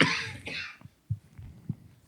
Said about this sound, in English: So I experience this coughing thing when I start talking.